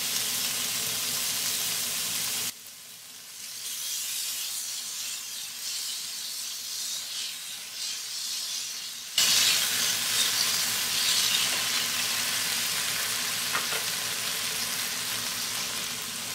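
Tomato puree for a shrimp and sausage jambalaya cooks in a pan with a steady broadband sizzle that dips briefly after a couple of seconds, then swells louder near the end, with no talking.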